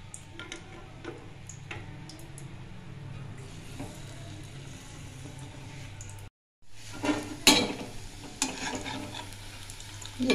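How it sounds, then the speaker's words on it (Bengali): Gokul pithe sweet dumplings fry in hot oil with a soft, continuous sizzle and occasional small ticks. A brief silent break is followed by louder bursts of spattering and utensil clatter close by. "একটু লাল লাল করে ভেজে নেওয়া হলো"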